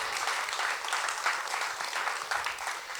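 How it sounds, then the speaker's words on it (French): A comedy-show audience bursts into sustained, dense applause, a steady wash of many hands clapping close and loud throughout. "Une personne qui applaudit, c'est bon,"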